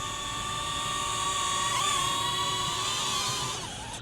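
The propellers of a DJI Neo 2 drone buzz as it comes down to land on a hand, a steady high-pitched whine held close throughout, its pitch dipping briefly partway through and again near the end.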